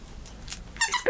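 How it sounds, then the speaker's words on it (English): A pet's squeaky toy banana gives two or three high, quick squeaks near the end, close by, after a quiet stretch of faint room noise. "Squeaky banana."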